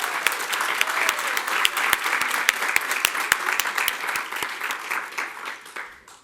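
A room full of people at a Black History Month celebration claps in a dense, even round of applause, loud and sustained with sharp individual claps standing out, tapering off near the end.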